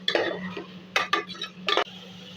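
Marinated chicken is stirred into masala in a pressure cooker, heard as a few distinct scraping and clinking strokes of a spoon against the metal pot over a low background hum, with no talk.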